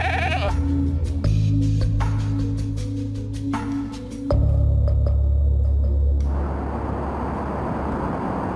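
Goats bleating in repeated calls over a steady low rumble of machinery or vehicle noise, fairly close and loud, with no talking.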